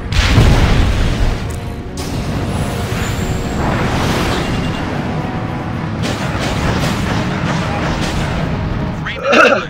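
Explosions in the aerial combat video game Ace Combat Infinity: a dense, continuous rumble of booms and blasts, loudest at the start and again in a final burst, with game radio voices over the din.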